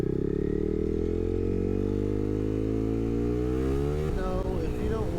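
A motorcycle pulls away from a stop as the rider lets out the clutch and gives gas, its engine note climbing steadily and loud up close before a gear change drops the pitch near the end.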